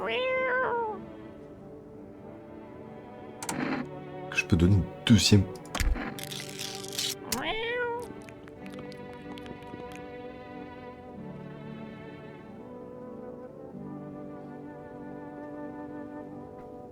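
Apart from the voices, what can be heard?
cat meowing in video game No, I'm not a human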